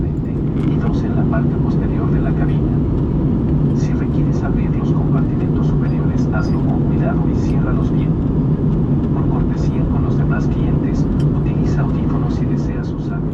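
A Volaris Airbus A321neo in flight gives a steady, loud cabin roar of jet engines and rushing air without a break, heard from inside the cabin.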